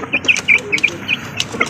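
Young Super Brown Red and Golden Boy Sweater cross chicks, about three weeks old, peep in a run of short, high chirps with soft clucks, close and fairly loud, no talking.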